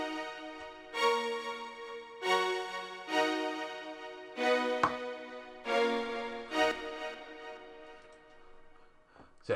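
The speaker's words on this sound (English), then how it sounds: "This is from Nexus. They're called drama strings." Drama strings from the Nexus synth play a trap-beat chord progression, with sustained harmonic chords swelling in repeated stabs of about one per second, each fading before the next, fairly quiet with no voices.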